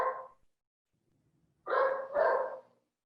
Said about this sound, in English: he is barking because I left him outside